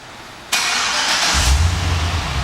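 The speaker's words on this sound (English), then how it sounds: "And the car starts right up" A 2010 Cadillac CTS-V sedan starts up by remote start, with a sudden cranking whoosh that settles into a low, steady engine rumble close by.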